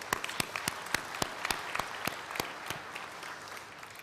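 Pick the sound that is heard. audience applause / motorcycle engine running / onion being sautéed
audience applause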